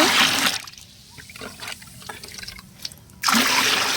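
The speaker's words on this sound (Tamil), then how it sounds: "இதோட கூட ரெண்டு பங்கு தண்ணி ஊற்றிக்குவோம்" Water gushes noisily into a bucket, pauses to a quieter trickle and splash, then pours heavily again.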